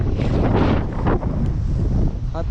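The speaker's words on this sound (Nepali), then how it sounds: "खतरा हावा लागिरहेको छ, आनन्दमा सिरो हावा चलिरहेको छ" Strong wind gusts across a hilltop ridge in Myagdi, Nepal, buffeting the microphone in rough, uneven surges, with faint human sounds in the background.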